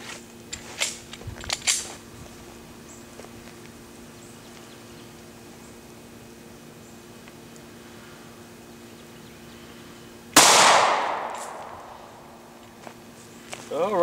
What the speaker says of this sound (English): here we go with that 40 cal, 165 grain Winchester Ranger